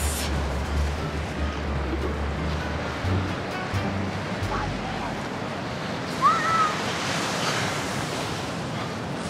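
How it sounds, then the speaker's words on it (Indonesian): Ocean waves at Pandawa Beach, a continuous broad surf wash with wind buffeting the microphone and a brief swell of louder breaking water near the end. "We're on the beach in Pandawa Beach."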